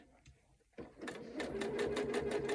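A sewing machine zigzag stitches fabric for bunting, starting after a short quiet pause and running steadily with a rapid, even rhythm, close and moderately loud.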